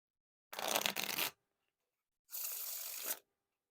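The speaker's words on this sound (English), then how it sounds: "Now for the riffle shuffle or bridge shuffle." Two close riffle shuffles of a Midnight Noc playing card deck, each a dense, crisp burst of rapidly interleaving cards lasting under a second, separated by a brief silence, with no talk.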